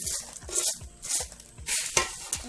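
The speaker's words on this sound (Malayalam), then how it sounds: "ചൂടോട് കൂടി തന്നെ നമുക്കിതൊന്ന് മിക്സ് ചെയ്തെടുക്കാം" Hot fried chickpeas and boondi being mixed together for a homemade Kerala mixture snack, giving a run of crisp rustling, rattling stirs in rhythmic bursts, close and fairly loud with no talking.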